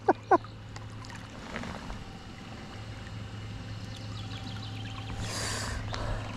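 A small motorboat's engine hums steadily on a river during a pike-fishing outing, a low continuous drone under faint water noise, with a couple of sharp clicks at the start.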